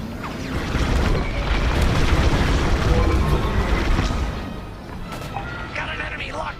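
A ship-mounted enemy dish blows apart in Star Wars: Squadrons, a loud, sustained rumbling blast with crashing debris that swells and then slowly fades over several seconds.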